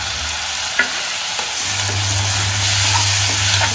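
Chopped tomatoes added to onions frying in a pan, stirred briskly, giving a few scraping clacks followed by a steady, close sizzle that grows slightly louder.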